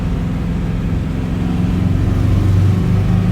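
A 1971 Saab station wagon accelerates in second gear, its engine giving a steady low drone that rises slightly in pitch and loudness, heard from inside the car.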